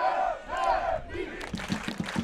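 German fans at a roundnet championship final chant and cheer together, a loud rhythmic crowd call with sharp repeated shouts in the second half, heard from the stands.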